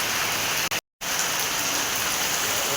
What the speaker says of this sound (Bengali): এই যে প্রচণ্ড বৃষ্টি হচ্ছে,